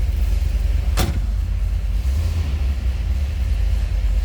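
A 1970 Chevrolet Corvette LT1 convertible V8 idles steadily after startup, a loud, constant low rumble filling the whole clip, with one brief sharp click or tick near the start.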